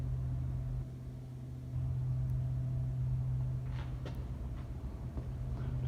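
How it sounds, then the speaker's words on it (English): A cool car's engine rumbles steadily at idle, a close, low, continuous hum with a brief rise in intensity partway through and no talking. "Just an awesome, cool car."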